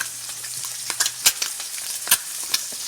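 An egg fries in hot oil in a pan, cooked until the yolk firms up. A steady close sizzle runs throughout, punctuated by a few sharp crackles and spatula taps.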